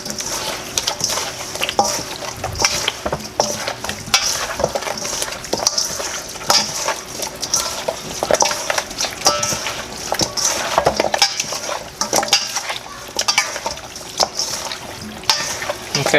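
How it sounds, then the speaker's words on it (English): Seasoned chicken pieces for Jamaican stew chicken are mixed by hand in a bowl, giving continuous wet squelching and light clinks of the dish, close and steady with no speech. "mixing up everything"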